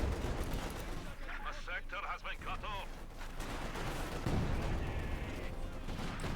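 Artillery bombardment in the strategy video game Company of Heroes 2, with repeated muffled blasts and gunfire crackling under faint battle noise at moderate distance.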